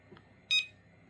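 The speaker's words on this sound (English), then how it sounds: "and it does one beep" A TECKNET bike alarm, covered to muffle it, gives one short, bright electronic beep on locking, preceded by a faint click of the button press in otherwise quiet surroundings.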